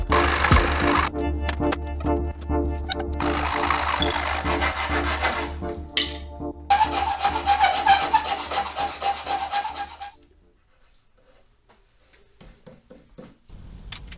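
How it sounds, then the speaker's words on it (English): Hacksaw cutting through material while building a backlit hardware-store storage wall, with steady rasping back-and-forth strokes for about ten seconds, then stopping, followed by a few faint scrapes. "But for now, back to the hacksaw."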